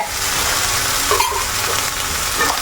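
Soybean chunks frying in a pan, a steady close sizzle with occasional light scraping from stirring, moderately loud and without voices.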